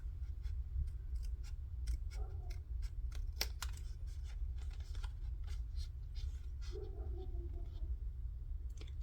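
Scissors snipping paper for junk journal ephemera, a run of quiet, quick crisp cuts in steady rhythm, close but faint, with no talking.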